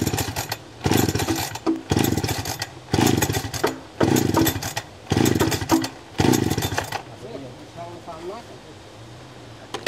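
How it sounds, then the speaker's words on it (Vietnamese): A chainsaw revs in a series of loud bursts with brief drops between them, then settles to a lower idle while someone talks nearby. "Cái con máy cưa của anh Phòng này thì là mua đâu đó là cũng phải tầm độ là mười mấy triệu đấy anh nhỉ"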